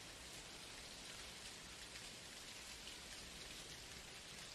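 Steady rain falling in an Unreal Engine weather system demo, an even, dense hiss of drops with no pauses, faint and constant throughout.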